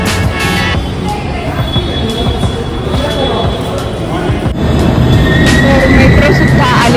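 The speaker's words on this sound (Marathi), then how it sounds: "मेट्रो सुद्धा आलेली आहे." A metro train pulls into a station during a family outing, a steady loud rumble of rolling wheels and rail noise that swells in the last seconds, with crowd chatter underneath.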